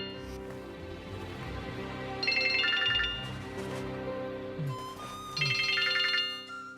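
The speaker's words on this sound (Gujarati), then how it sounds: "Pick up the phone" A mobile phone ringtone plays a bright, melodic tune in repeating bursts, with louder chiming phrases returning at intervals, fairly close and clear over a soft background.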